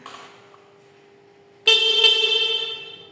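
A car horn blares once during an electrical system check, a loud steady sustained tone that starts abruptly and holds for about a second and a half, following a fainter earlier tone.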